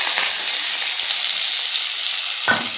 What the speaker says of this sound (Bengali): ওই তেলের মধ্যে দিয়ে দেবো কুচনো পেঁয়াজ।